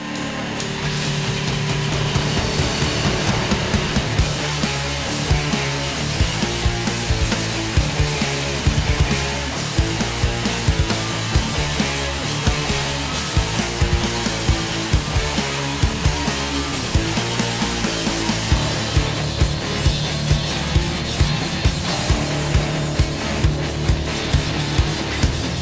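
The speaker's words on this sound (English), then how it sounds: "Luckily, I'm pretty damn good with a grinder." An angle grinder works on old steel from a 1959 Renault, a loud continuous metallic grinding with rhythmic chattering pulses throughout, no voices.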